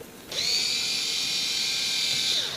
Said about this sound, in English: Just need to unscrew that.